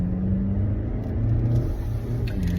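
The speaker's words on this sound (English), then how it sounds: "I hear the gas pedal being pushed" A car engine rumbles and revs up under a heavy foot on the gas pedal, a steady close drone rising slightly in pitch.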